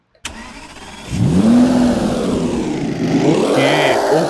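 An old car's engine starts in a driving video game: a click, a brief cranking, then the engine catches and settles into a loud, rough idle with a slight rev near the end.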